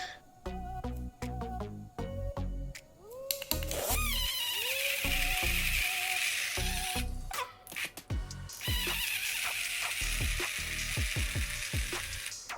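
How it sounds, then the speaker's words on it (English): A portable rechargeable blender struggles with half an apple and a banana, its small motor whirring in uneven bursts with clattering chunks, pauses and restarts, heard up close without talk. "as you can see in this video where I'm trying to blend half an apple and a banana."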